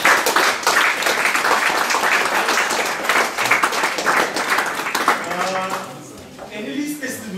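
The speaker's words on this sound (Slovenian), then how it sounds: "jaz bi še za eno aplavz lepo prosil" An audience at a talk on algae and algal technologies breaks into sustained clapping that gradually thins and fades out, while a voice speaks over the tail end.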